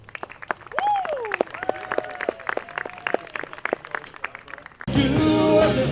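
Sparse, crisp hand claps from an audience at an outdoor summer park concert sound over a voice with a sustained tone, then the band's music abruptly begins.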